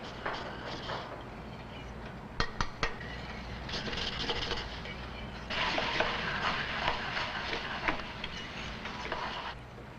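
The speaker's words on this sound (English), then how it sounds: "there are many methods for moving the egg around in the pan to make an omelet" Egg being pushed and moved around in an omelet pan on a griddle in a food service kitchen, with soft scraping and sizzling, a few sharp clinks of utensil against pan, and steady frying hiss throughout.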